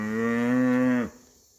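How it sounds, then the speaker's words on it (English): A single loud, close moo from cattle being herded down a road beside a cornfield, held steady for about a second and then cut off abruptly. "we're bringing the cattle down a road here, cornfield on one side"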